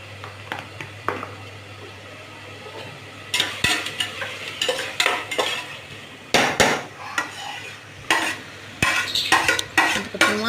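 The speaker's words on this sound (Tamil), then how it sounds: "அது சிக்கன் எடுத்து அதில் போட்டு இஞ்சி பூண்டு பேஸ்ட்டு, மஞ்சத்தூள் நல்லா போட்டு பச்சை வாசனை போகிற வரைக்கும் நல்லா தாளிச்சிக்கிட்டேன்" Chicken frying in a pan with ginger garlic paste and turmeric, stirred with a utensil: steady close sizzle under irregular scraping and clanking strokes that come in quick bursts, louder toward the end.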